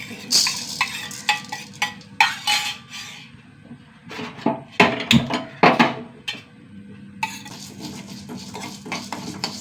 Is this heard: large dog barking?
no